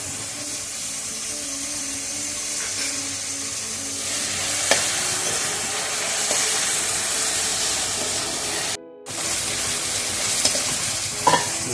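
Onions with ginger and green chilli sizzle steadily in a hot pan for a chicken ada filling, with the scrape and stir of a spoon running through the frying and a brief drop in the middle.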